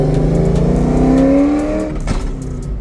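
Ford Terminator Cobra cruising on a fall night, its engine revving loudly as it accelerates, pitch climbing then dropping off near the mic, with no talking.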